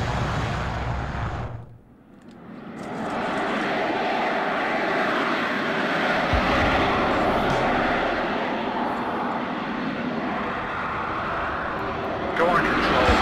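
Attack helicopter in the modern-warfare strategy game Warno, a steady loud rotor and engine drone that dips briefly near the start and then holds continuously, with combat sounds mixed in.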